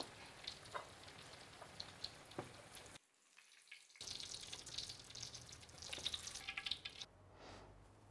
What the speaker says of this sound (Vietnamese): mình chiên vàng hai mặt